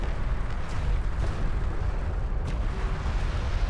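Artillery fire support in the real-time strategy game Deserts of Kharak rumbles as a steady, dense low barrage of distant booms, continuous throughout with no voices.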